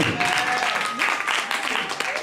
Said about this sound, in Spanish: Sí, den un aplauso al Señor